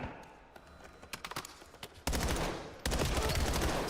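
Bursts of gunfire from a Call of Duty match at a CDL Champs pro esports event, starting as scattered sharp shots and then turning into loud, sustained automatic fire with no talk over it.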